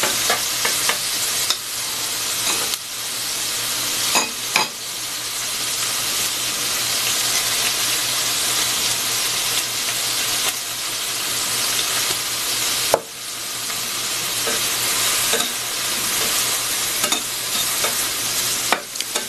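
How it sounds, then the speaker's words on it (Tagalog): Tomatoes fry in a pan with a steady loud sizzle while a utensil stirs them, scraping and clattering in repeated strokes, with a few sharper knocks against the pan. "Haluin lang natin, haluin."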